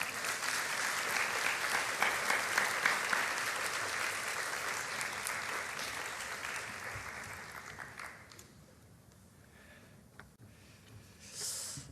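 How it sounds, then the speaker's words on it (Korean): Congregation at a church young adults' Sunday worship applauds to welcome a pastor to the stage, a dense, loud clapping that holds steady for about eight seconds, then fades to quiet room tone with a brief swell near the end. "우리 김신영 목사님 올라오실 때 따뜻한 박수로 환영하겠습니다."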